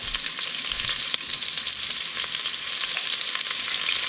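Onions fry in a Dutch oven with a dense, steady sizzle and a faint crackle throughout, joined by one brief utensil knock, close and without any voices.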